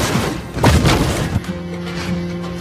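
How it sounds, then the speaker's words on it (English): A turret crumbles in Mobile Legends with a heavy booming crash and thudding debris, then gives way to a steady low tone as the blast fades. "Our turret has been destroyed."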